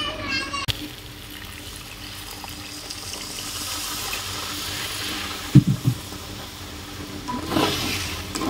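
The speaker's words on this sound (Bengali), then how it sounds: "তো এখন সামান্য একটু জল দিয়ে দিই।" A little water is poured into a pan of bottle gourd and pea dal, making a steady running, splashing trickle. It goes on for several seconds, with a few clatters and a voice speaking nearby.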